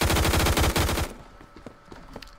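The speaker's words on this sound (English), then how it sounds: "I'm running straight into the line of gunfire." Loud, rapid automatic gunfire from the first-person shooter game Phantom Forces rattles for about a second, then gives way to scattered quieter distant shots.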